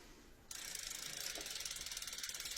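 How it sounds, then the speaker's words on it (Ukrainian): The freewheel ratchet in the hub of a 29-inch electric bike wheel clicks in a fast, even run of close, crisp ticks, starting abruptly after a brief quiet moment. "Так працює тріскачка."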